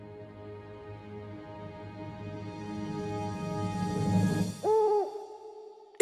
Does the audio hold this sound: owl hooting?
yes